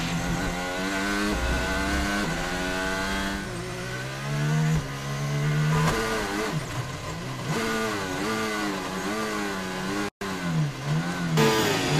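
A high-pitched Formula 1 car engine screams continuously at the 2022 Canadian Grand Prix, its pitch climbing and dropping with gear shifts, loud and close, with a brief cut near the end as the car gets stuck in gear.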